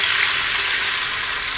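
Tomato paste hits a hot tempering of cardamom, cloves and cumin in oil for a potato and pointed gourd curry, giving a loud, steady, close-up sizzle with no talking.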